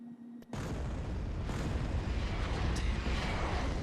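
Artillery fire in Star Wars: Empire at War Forces of Corruption: after a short quiet moment, a sudden heavy blast opens into a sustained, dense rumbling roar of explosions that stays loud throughout.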